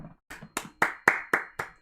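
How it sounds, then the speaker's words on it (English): One person claps, about seven sharp, evenly spaced hand claps, close and clear against silence. "Give myself a clap."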